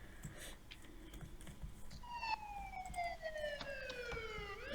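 A police car siren in a Minecraft game wails in rising and falling sweeps, starting partway through over a busy background of faint clicks and game noise.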